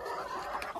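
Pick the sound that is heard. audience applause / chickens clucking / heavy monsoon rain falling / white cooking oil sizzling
chickens clucking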